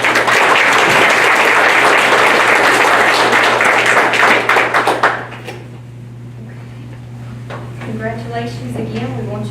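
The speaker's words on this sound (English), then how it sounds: "give it a round of applause" Applause from an audience at a congressional high school art competition honoring a winning piece, dense clapping filling the first five seconds before fading out, followed by a quieter room and a voice beginning to speak.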